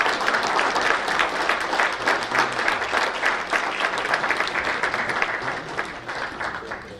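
Sustained applause from an audience at a formal government conclave inauguration, dense clapping steady and loud for the whole stretch, with a faint murmur of voices mixed in.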